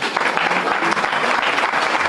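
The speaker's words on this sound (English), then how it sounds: "I think a round of applause is appreciated." A dense, loud round of applause from the audience at a breakfast celebration for women in construction, steady clapping filling the room.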